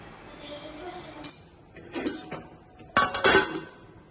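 A lid set onto a cooking pot of chicken kabsa simmering with garam masala, giving a few separate metallic clinks and clatters, the loudest cluster near the end.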